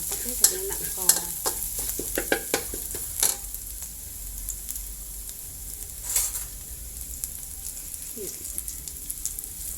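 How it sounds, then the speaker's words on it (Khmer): Ginger being stir-fried in a pan while making chicken rice, with a string of sharp spatula scrapes and clatters over a steady low sizzle, nearby and fairly loud. "ឥឡូវយើងឆាខ្ញី"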